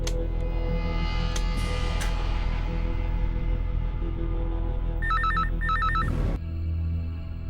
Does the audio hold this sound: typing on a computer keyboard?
no